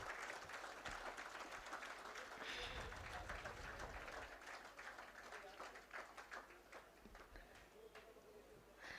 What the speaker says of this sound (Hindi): A great round of applause, ladies and gentlemen.